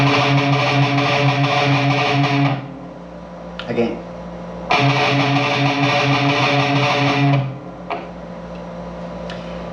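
Distorted electric guitar plays a gallop rhythm with an extra eighth note between the sixteenth pairs, two loud bursts of the chugging figure separated by a short gap where a voice briefly speaks.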